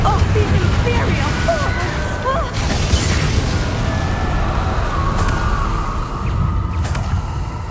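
Booming fire-spell explosions from the Confringo spell in Hogwarts Legacy, loud rumbling bursts over continuous game noise with a voice speaking.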